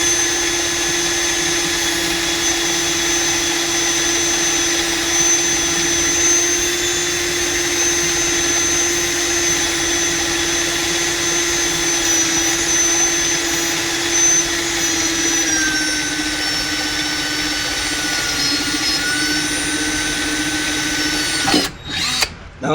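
A power drill runs steadily for about twenty seconds, boring into a thin casing made from a beer can on the rear end of a Cub Cadet RZT50 zero-turn mower, its pitch sagging briefly before it stops abruptly, close and loud.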